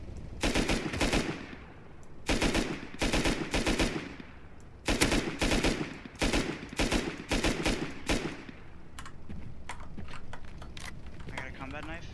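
Loud bursts of automatic AK rifle fire crackle in the survival game Rust during PVP at an oil rig, rapid volleys separated by short pauses, with someone talking over them.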